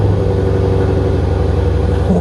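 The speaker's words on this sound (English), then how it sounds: "here's a cold start for you guys" A Lexus IS500 V8 engine cold-starts and idles steadily with a deep, throaty drone through an Apex'i N1 Extreme aftermarket exhaust, with a faint rev toward the end, loud and close.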